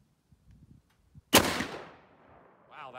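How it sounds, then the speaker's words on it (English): A single sharp, loud 6.5 Creedmoor rifle shot with 107-grain Sierra MatchKing bullets fires outdoors at the range, its report decaying into a rolling echo, with soft handling clicks before and a faint voice after. "This first one's gonna be a 4-shot group, and then after that, 5-shot groups."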